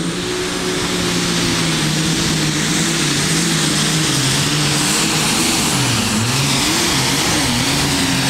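A race car engine revs loudly and steadily through a run, the pitch wavering up and down over constant broadband roar, with no voices.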